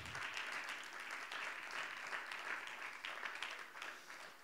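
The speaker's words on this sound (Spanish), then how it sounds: "Va, eso para darle un aplauso a Jesús." A church congregation applauds during a Bible teaching, soft but steady massed clapping heard at a distance, continuous for several seconds without talk.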